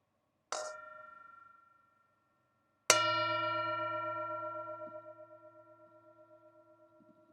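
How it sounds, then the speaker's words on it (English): A meditation bell rings in a quiet Buddhist setting: a short first strike fades, then a louder second strike rings out with a long, slowly pulsing decay and no voices. "You're listening to the bell."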